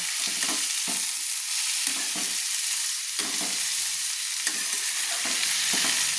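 String beans and potatoes with black pepper powder are stirred in a frying pan, a steady hiss of sizzling broken by repeated scraping strokes of the spoon, close and fairly loud throughout.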